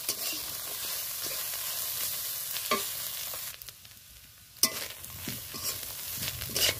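Grated coconut lightly frying in a pan for a vegetarian taro-leaf dish, a steady soft sizzle with stirring scrapes and clinks, close and continuous with a brief quieter stretch midway.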